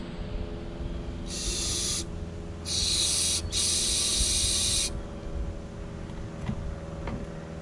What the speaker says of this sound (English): Just gonna blow out this carburetor.